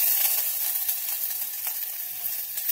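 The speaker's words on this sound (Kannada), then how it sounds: "ಫಸ್ಟು ಈರುಳ್ಳಿ ಹಾಕೊಳ್ತಾ ಇದ್ದೀನಿ," Onion fries in hot cooking oil for a North Indian veg makhanwala curry, giving a bright, steady sizzle that is close and loud throughout the short stretch, with no talking.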